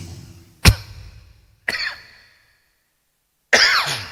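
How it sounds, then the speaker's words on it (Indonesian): Three separate coughs spaced apart, each a sharp burst trailing off, with quiet pauses between; close and fairly loud, no talking. "Nah seperti batuk ini"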